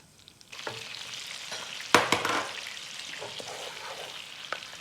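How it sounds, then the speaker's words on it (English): A spoon stirs a black pepper crab sauce of melted butter, ketchup mayonnaise and oyster sauce in a hot pan, scraping and sizzling close up with a sharp clatter near the middle and no voices. "Give that a good stir."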